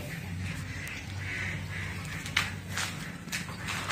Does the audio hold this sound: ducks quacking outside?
yes